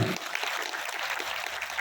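Applause from a room full of people at a pharmacists' association workshop in Durg, India, steady clapping that starts abruptly and continues evenly without talk.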